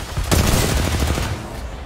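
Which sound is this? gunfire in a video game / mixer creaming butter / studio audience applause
gunfire in a video game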